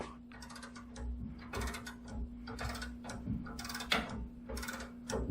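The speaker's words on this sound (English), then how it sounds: "As I'm ratcheting this up, it starts going to town." Ratcheting a tensioning clamp in a shop while stress-relieving cast iron, a quiet run of irregular mechanical clicks and ticks over a steady low hum.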